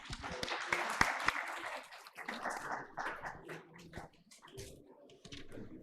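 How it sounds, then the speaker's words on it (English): Scattered audience applause closing a conference session on globalization, with a burst of claps at first that quickly becomes thin and patchy, trailing into sparse, uneven clapping. "That could have been a louder round of applause."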